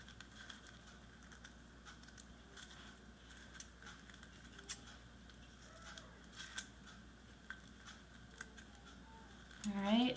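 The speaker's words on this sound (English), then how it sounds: "Now I'm just going to cut the other side instead of drawing it." Scissors snip through folded paper while a paper snowflake is cut, giving quiet, irregular crisp clicks and rustles close by, with faint handling noise and a louder paper rustle at the end.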